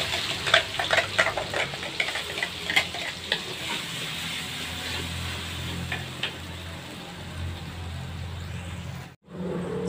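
Ground garlic, shallot and red chili paste sizzling in hot oil, a steady close frying hiss with occasional stirring scrapes and clicks of a utensil, continuing evenly until a brief drop near the end.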